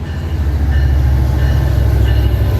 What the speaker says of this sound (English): There's a train here passing by.